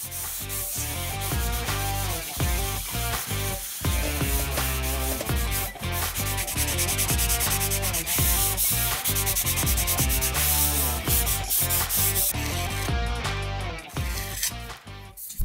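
A random orbital sander on reduced speed with 320-grit paper buzzes loudly and continuously against wall filler, its pitch wavering slightly as it is pressed and moved, with brief dips along the way.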